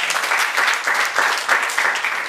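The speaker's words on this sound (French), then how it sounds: "Applaudissements aussi pour elle." Audience applause for an international choreographer and trainer being introduced on stage, a dense steady wash of clapping from a sizeable crowd that carries on loudly for a couple of seconds with no talking over it.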